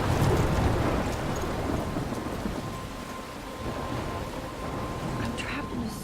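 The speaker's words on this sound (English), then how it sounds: "I'm trapped in a storm?" Thunderstorm with heavy rain and rolling thunder in the video game Life Is Strange, heard as a dense, steady roar of rain with low rumbling underneath that holds constant and loud throughout.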